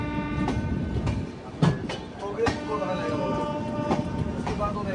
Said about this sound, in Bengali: ডিব্রুগড় থেকে 1134 কিলোমিটার পথ চলা শেষ করে আমাদের ট্রেন এই মুহূর্তে এসে পৌঁছালো বিহারে বেগুসরাইতে